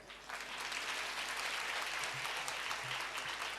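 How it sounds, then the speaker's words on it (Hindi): Applause from the listeners at the seventh day of a Shrimad Bhagwat Katha, a dense, steady wash of many hands clapping that swells in quickly and holds at full strength throughout. "एक बार मैं चाहूँगा यहाँ के श्रोता भी अपने लिए ताली बजाएं"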